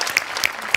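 A television comedy show audience applauding a performer, a brief burst of close clapping that lasts under a second.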